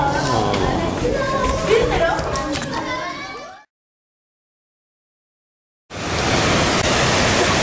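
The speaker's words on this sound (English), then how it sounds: "here's a massive waterfall" A steady roar of rushing, falling water from a large waterfall at the Roman Baths, with children's voices in the background, then silence, then the roar resumes.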